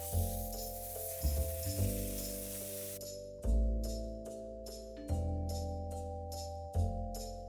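A steak sears on a stovetop pan with a steady, loud sizzle that runs throughout, with a few soft clicks or shifts of the pan and a low hum underneath.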